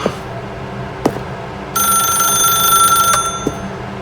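A telephone rings in The Stanley Parable Ultra Deluxe with a bright, sustained electronic trill, accompanied by a few soft clicks and knocks before and after.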